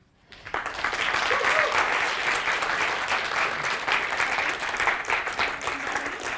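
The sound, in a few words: audience applause for the team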